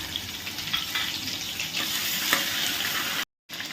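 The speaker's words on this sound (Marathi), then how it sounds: "वाटलेले धणे, सोप, जिरं तेलामध्ये टाकायचं। त्यानंतर त्यामध्ये आलं आणि लसणाची पेस्ट" Ground coriander, fennel and cumin with ginger-garlic paste fry in hot oil for puri bhaji, a dense continuous sizzle without talk that cuts out briefly near the end.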